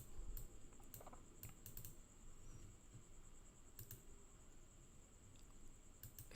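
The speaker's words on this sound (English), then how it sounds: "Let's just put the typing on display." Fingers type on a computer keyboard in quiet, irregular clicks and short bursts, close to the microphone over a low background hiss and faint steady whine.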